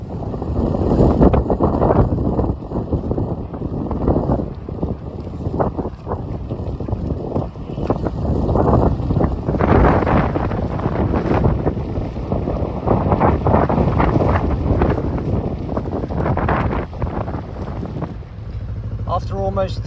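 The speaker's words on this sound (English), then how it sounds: "But hopefully the wind dies down before then." Strong gusty wind buffets the microphone beside a narrowboat moored on a canal, a loud roaring rumble throughout that rises and falls.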